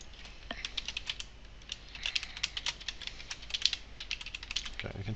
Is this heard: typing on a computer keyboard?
yes